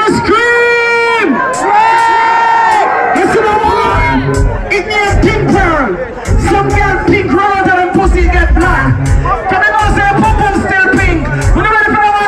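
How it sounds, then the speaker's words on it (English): A concert crowd screams, whoops and cheers loudly and continuously at a live show, a dense wash of high shrieks and shouts mixed with an amplified voice and low music throb. "Let me hear the scream!"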